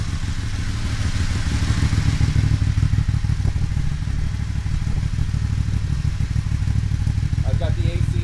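Aprilia Dorsoduro 1200 motorcycle idling steadily up close, a low, even engine rumble with faint clatter running throughout, with no talk over it.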